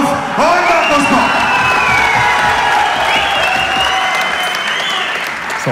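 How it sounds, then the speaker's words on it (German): A large arena crowd at an MMA event in Düsseldorf applauds and cheers loudly, with whoops and shouts rising over sustained clapping, while an announcer's amplified voice carries through the hall. "Ihr Applaus für Hasan Minichanov und Markus Bohn."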